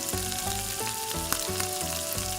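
Chopped onions frying in hot oil with mustard seeds for a potato sambar, a loud continuous sizzle with scattered sharp pops and a low hum underneath.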